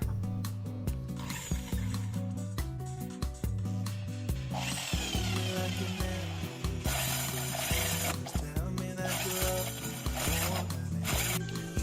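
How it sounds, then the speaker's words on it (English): Power drill biting into material during kitchen cabinet work, repeated bursts of whirring and ratcheting mechanical grind with short pauses between them, fairly close and with no talking. "This drill is really biting a bit."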